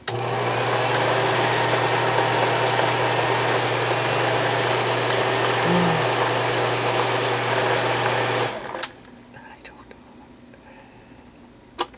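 A kitchen blender purees turkey for a baby, running as a loud steady motor whir for about eight seconds before cutting off to quiet room tone, with a short click at the end.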